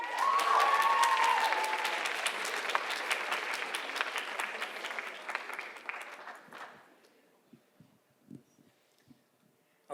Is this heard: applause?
yes